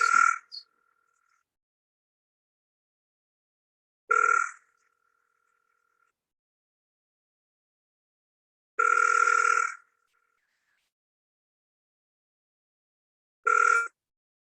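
Phone ringback tone on an outgoing call: four separate electronic ring bursts about four to five seconds apart, the third longer than the others, with silence between them.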